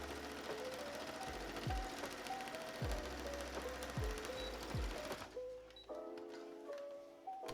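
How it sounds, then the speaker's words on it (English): A domestic sewing machine stitches a lining skirt onto a lace wedding dress bodice, its motor whirring steadily with a few short bursts and pauses, close by, while faint background music plays. "we're going to sew the lining skirt to the bodice"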